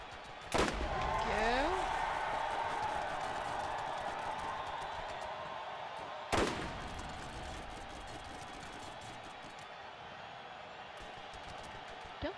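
Two sharp gunshots from Borderlands during the Moxxi's Underdome Riot in The Gully, spaced several seconds apart, with faint whooshing and tonal game effects and a steady ambient bed between them.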